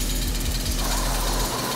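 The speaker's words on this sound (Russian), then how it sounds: "Надо, может быть, использовать уже бензопилу как-то." Revving chainsaw in the shooter Doom (2016), a loud, steady buzzing drone with a low pulsing chug running through the whole short stretch, no voices over it.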